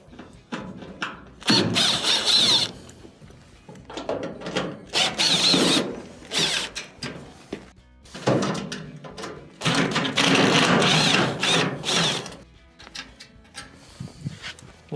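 A power screwdriver whirs in several short bursts, removing Phillips screws from the bottom lip of a dryer's top panel, close and loud with brief pauses between screws.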